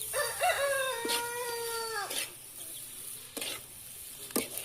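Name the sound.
stirring chicken fried rice in a pan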